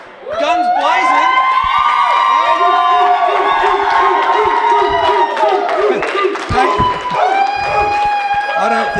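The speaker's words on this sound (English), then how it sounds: "The crowd's going absolutely mental behind me" A loud crowd cheers, whoops and shouts continuously at a boxing event in a ballroom as a fighter makes her way to the ring, with the roar sustained throughout.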